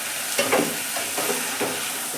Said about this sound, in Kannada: ಚೆನ್ನಾಗಿ ಮಿಕ್ಸ್ ಮಾಡಿ ನಂತರ 2 ಆಲೂಗೆಡ್ಡೆ ಹಾಕಿ